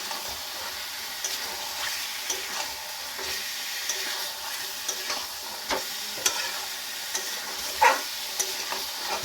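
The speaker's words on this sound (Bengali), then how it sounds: "পাঁচ থেকে সাত মিনিট এটা কষিয়ে নেব" Yogurt egg curry masala sautéed in a pan, a soft continuous sizzle with occasional scraping clinks from stirring, close and fairly quiet, no talking.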